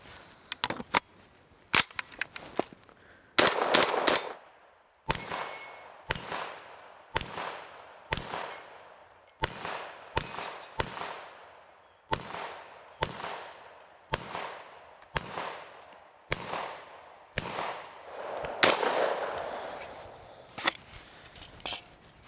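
Shots from an Extar EP9 Gen2 pistol ring out one at a time as a string of loud, sharp cracks, each with a short decaying tail, spaced roughly a second apart with a few quick pairs.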